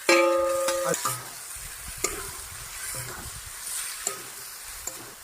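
Chicken frying in spice masala in a pan while cooking a jackfruit chicken curry, with a soft continuous sizzle under scattered stirring scrapes and knocks, plus a brief tonal beep near the start.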